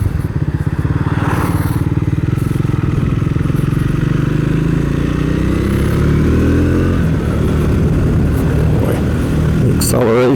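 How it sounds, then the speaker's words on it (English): A Triumph Speed 400 motorcycle engine revs up and accelerates loudly and steadily in third gear, its pitch climbing as it pulls hard, with wind and road noise throughout. "Acceleration in 3rd gear coming around the corner is impressive."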